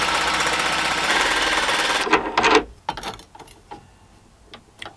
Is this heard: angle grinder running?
yes